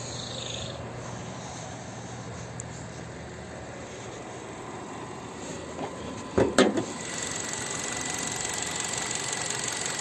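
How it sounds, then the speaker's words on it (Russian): A Kia Rio 4 with a 1.4 engine idles with a quiet, steady, even hum and a soft broadband hiss. A brief clunk sounds partway through. "Двигатель работает, практически не слышно его."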